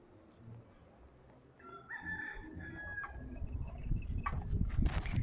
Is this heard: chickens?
yes